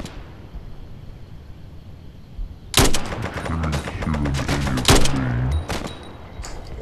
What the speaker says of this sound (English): I just sniped someone and I'm not even a sniper.